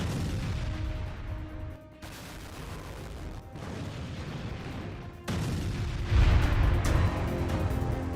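Russian artillery shelling Ukrainian troops sheltering in a large concrete building near Krasnoarmeysk: rumbling booms and bursts of fire in a continuous barrage, with a heavier, louder blast toward the end.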